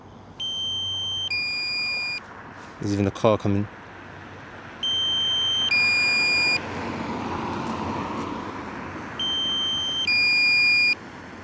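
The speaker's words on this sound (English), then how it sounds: "Only issue is that the beeping noise started now." Electronic beeping warning from a flying drone, in short stepped bursts, repeating three times with pauses, over outdoor wind noise; a brief voice speaks between the first two bursts.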